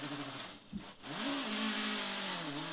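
Rally car launching hard from the start line on a stage of the Galway Summer Rally, its engine note dipping briefly then climbing steadily in pitch as it pulls away, loud and close from inside the car.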